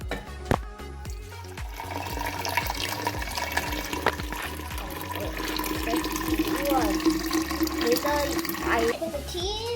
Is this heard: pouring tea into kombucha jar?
yes